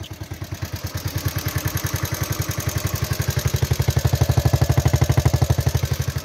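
Honda Novio (Amigo) moped engine idling gently up close, a steady, even putt-putt pulse that holds the same rhythm throughout with no talking.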